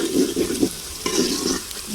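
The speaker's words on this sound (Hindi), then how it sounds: "ये देखिए प्याज हमारा ब्राउन होना शुरू हो गया है। अब थोड़ी देर और हम इसे इस तरह फ्राई करेंगे" Onions browning in a frying pan for Hyderabadi chicken biryani, a loud close sizzle with a few quick stirring scrapes and bubbling crackle throughout, no speech.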